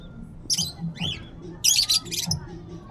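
Several loud bird calls, harsh squawking bursts and a swooping cry, repeating at close range over a low background rumble.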